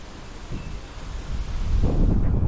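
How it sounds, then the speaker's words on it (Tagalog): Strong typhoon wind buffets the microphone in gusts, building to a heavy, rumbling roar toward the end. "lakas ng hangin"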